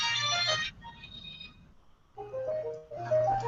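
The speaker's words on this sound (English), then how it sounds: "My phone's ringing." An old low-tech mobile phone rings with a bright, electronic tone in short repeated bursts, close and loud, with brief quieter gaps between rings.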